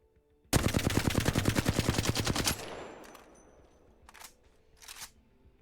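Flatline rifle firing in Apex Legends: a steady, rapid automatic burst of about twenty loud close shots lasting two seconds, followed by decaying echo and two short quieter bursts.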